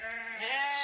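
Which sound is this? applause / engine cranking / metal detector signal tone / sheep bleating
sheep bleating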